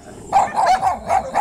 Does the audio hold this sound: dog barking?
yes